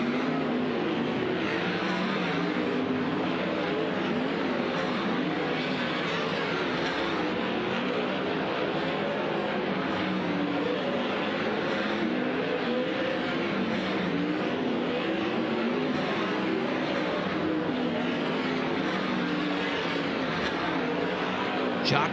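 High Limit Racing cars at Kings Speedway going green for hot laps, a constant loud roar of engines filling the air without a break, with an announcer talking over it throughout.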